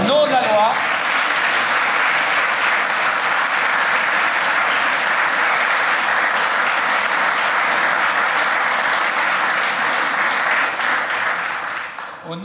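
A crowd at a wedding ceremony in Woluwe-Saint-Pierre bursts into sustained, loud applause that holds steady for about twelve seconds before tapering off at the end.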